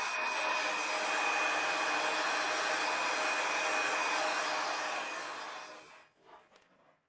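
A hair dryer blows steadily over alcohol ink on a resin art piece, a loud continuous whoosh that cuts off near the end, leaving quiet handling noise.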